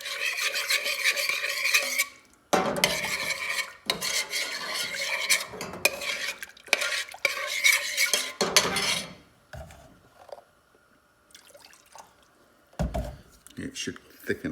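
A spoon stirs a thickening cheesy leek sauce in a pan, with scraping and rasping strokes in bursts broken by short pauses. A voice talks over the stirring.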